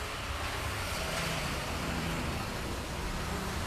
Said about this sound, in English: apparently this is the street where school buses come down.